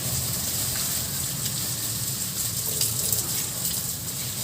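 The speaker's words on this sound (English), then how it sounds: "So what I do is I wash the plastic first," Tap water runs steadily as a plastic bag that held coconut milk is rinsed clean at a sink, a constant close gush with faint handling noises and no talking.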